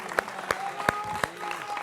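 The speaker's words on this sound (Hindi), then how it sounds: "जोरदार तालियों के साथ" Enthusiastic applause for a stirring patriotic song rises in short bursts of sharp claps. The claps sound moderately distant and pass quickly.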